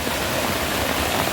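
Freshly fallen monsoon rainwater pours and splashes down a village stream, a continuous close wash of rushing water heard alone at an even level.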